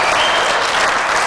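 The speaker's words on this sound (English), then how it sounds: "Huge reaction from the crowd." A crowd applauds loudly at a talk, a dense, even burst of clapping lasting a moment without a break.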